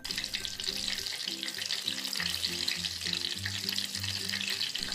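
Battered cauliflower bajji fry in hot oil with a dense, continuous bubbling sizzle, close and fairly quiet, with faint low clinks and hum underneath.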